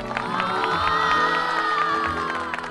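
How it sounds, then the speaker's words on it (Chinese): A studio audience cheers and whoops loudly for a couple of seconds, a bright, excited crowd roar with scattered high shouts and some clapping underneath. "掌声鼓励鼓励"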